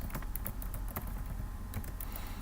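Fast typing on a computer keyboard, a dense run of close, crisp key clicks over a steady low hum, with no speech.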